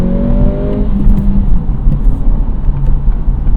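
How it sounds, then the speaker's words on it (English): A 2023 Acura Integra engine drones loudly from inside the cabin during a manual clutch shift, revs dropping briefly before settling into a steady, rumbling hum with no talking. "Now disengage for a smooth shift."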